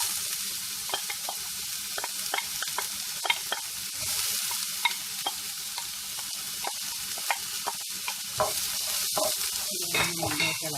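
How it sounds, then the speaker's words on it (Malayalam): Snake gourd and lentil stir-fry being stirred in a pan: a steady frying sizzle under repeated scraping and clicking spoon strokes in an irregular rhythm, close and alone. "ഇളക്കി യോജിപ്പിച്ച്"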